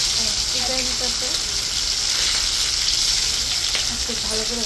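Chicken and vegetables frying in a pan, a constant close sizzle with stirring scrapes underneath, faint voice fragments in the background.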